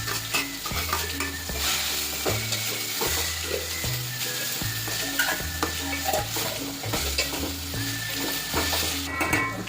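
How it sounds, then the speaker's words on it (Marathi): Grated bottle gourd fries in ghee with a steady, close sizzle as a spoon scrapes and stirs it around the pan in a regular rhythm, with no talking. "त्यात खिसून घेतलेला दुधी भोपळा चांगला भाजून घ्यायचा"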